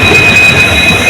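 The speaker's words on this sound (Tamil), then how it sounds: "இப்போ வந்து பகவதிபுரங்கிற ஸ்டேஷனில் வந்து ரீச் ஆகிருக்குங்க" A Guruvayur–Madurai train pulls into Bhagavathipuram station, with loud, close rail rumble, a steady high wheel squeal and constant noise from the carriages.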